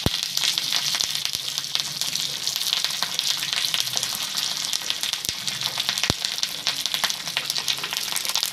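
Curry leaves crackle and sizzle fiercely in hot oil in a pan for tomato chutney, a dense, continuous spitting hiss punctuated by sharp pops, close up and without talk.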